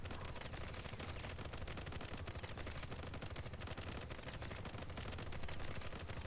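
Winter Soldier's gunfire in the video game Marvel Heroes: dense, rapid automatic shots rattling on continuously and loudly without a pause.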